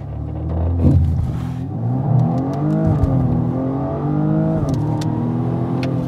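A BMW M235i xDrive Gran Coupé launches under launch control, the engine surging from a rumble into a strong rising pull with several upshifts as the revs climb and dip, loud and close from inside the car.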